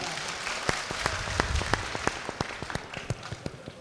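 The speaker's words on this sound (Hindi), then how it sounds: "जोरदार तालियों से इस्तकबाल कर दीजिए अपनी मेहमान शायरा का एक बार" Audience applause welcoming a guest poetess at a mushaira in Nuh, Mewat: a steady wash of clapping with distinct sharper claps standing out, moderately loud and continuous with no talk.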